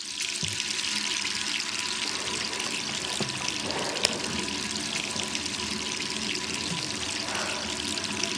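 Water runs steadily from a tap in Resident Evil 3, a continuous close hiss and trickle that fills the whole stretch with one brief sharp click partway through.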